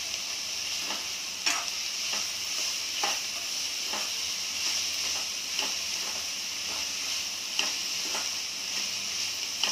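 Onion for tomato chutney sautés in a pan over high gas, a steady close sizzle with periodic soft scraping strokes of stirring spread across the whole stretch, no voices.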